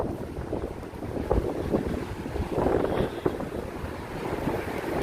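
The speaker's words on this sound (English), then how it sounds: "It's a little windy here" Gusty wind buffets the microphone near the water by the Queensboro Bridge, a steady roaring rush with rising and falling gusts, no voices.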